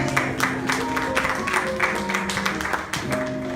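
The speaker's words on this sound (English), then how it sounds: "Let's give them a hand clap of praise." A church congregation breaks into hand clapping of praise, a dense stretch of overlapping claps with voices and a low sustained tone from an organ or similar instrument underneath.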